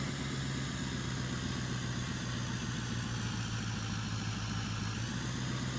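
Truck engine idling in the Farming Simulator 15 video game during forestry work: a steady, loud, low rumbling drone with an even mechanical throb, continuous throughout with no change and no talking.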